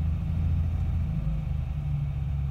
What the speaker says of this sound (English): But if I increase the revs,